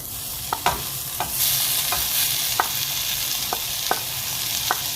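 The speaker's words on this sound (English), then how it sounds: "The peas got some color, so now I'm gonna put the chopped meatballs." Chopped meatballs and peas fry in a pan, a steady sizzle punctuated by several sharp scrapes and clinks of a utensil stirring, with no talking.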